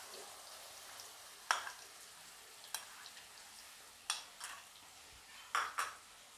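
Garlic paste frying in oil with cumin seeds over low heat, a faint steady hiss broken by about five sharp metal clinks of a spoon against the pan, with no talking.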